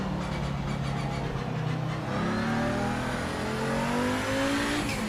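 Ferrari 296 engine revving hard in the racing game Project Motor Racing, a steady loud drone with rising pitch as it accelerates through gears, tire noise underneath, no voices.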